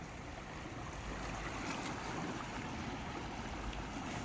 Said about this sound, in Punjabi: ਸ਼ਾਂਤ ਜਿਹਾ ਮਾਹੌਲ ਹੈ ਨਾ ਉਰੇ ਸਿਰਫ ਪਾਣੀ ਦੀ ਆਵਾਜ਼ ਆ